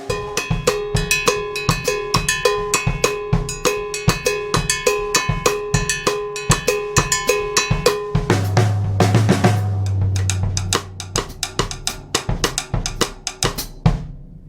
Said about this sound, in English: if we use our floor tom and snare combination, this time I'll turn the snares on, see what that sounds like